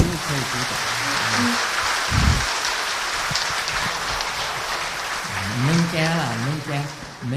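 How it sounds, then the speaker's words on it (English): Broad, steady audience applause at a Dzogchen dharma talk by a teacher in Taiwan, a continuous hiss-like wash of many hands with a voice speaking over it at moments. "Now you can applaud."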